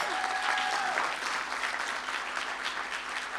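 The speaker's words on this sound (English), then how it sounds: "please let's just clap for her" Audience clapping steadily at a gender-transformative education event, a dense, even wash of applause that holds for several seconds.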